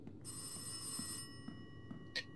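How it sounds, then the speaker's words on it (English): An old telephone bell rings in the horror game Rise of Insanity, a quiet, trilling ring lasting about a second followed by faint knocks and a brief second burst. "what is with the goddamn phone?"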